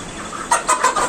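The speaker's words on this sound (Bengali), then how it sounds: "আমার বেটি মুরগির সাথে খেলা করছে।" Several quick clucks from chickens close by, coming in a short rapid series.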